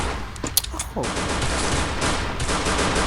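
Rapid bursts of gunfire from a 4v4 shooting video game, a few sharp shots early and then dense continuous automatic fire filling the rest, loud and close.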